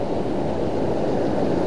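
Sea waves surge and wash onto the shore at a fishing spot as the tide rises, a steady close roar of surf mixed with wind buffeting the microphone, no voices.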